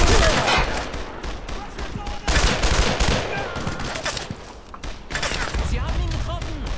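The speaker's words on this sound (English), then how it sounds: "Suppressing fire!" Sustained suppressing gunfire in Brothers in Arms cracks in dense, loud overlapping bursts with heavy thuds, running continuously with small lulls, while voices shout over the shooting.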